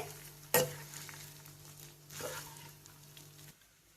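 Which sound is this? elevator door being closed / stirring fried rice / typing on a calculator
stirring fried rice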